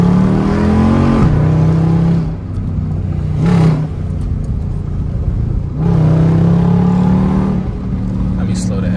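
Engine of a Jeep SRT revs while driving, rising and falling in two long pitch sweeps with a steady loud drone between them, close up.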